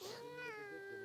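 A single short cat meow, clear and close, rising then falling in pitch, near Greek shepherd dogs.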